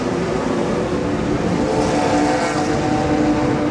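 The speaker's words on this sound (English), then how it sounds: "Look what just pulled up to the gas station right here. F50." A Ferrari F50 engine rumbles steadily at a gas station, a continuous loud idle-like drone with no talking.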